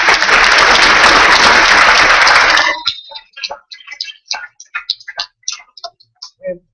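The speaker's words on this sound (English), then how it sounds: "A round of applause for those people as well, please." Applause at a youth-in-policing after-school graduation ceremony: a loud, dense burst of clapping that stops abruptly, followed by a few sparse, isolated claps fading out.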